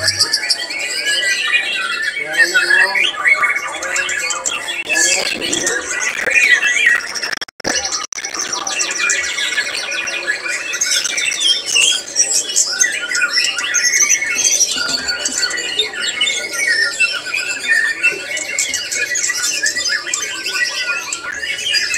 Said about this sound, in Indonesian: Ini dia murai batu Jakalara.